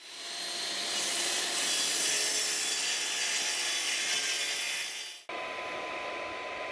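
A hand saw cuts through wood on a trestle cutting station, a continuous close rasping stroke that runs for about five seconds before the piece drops free, followed by quieter room tone.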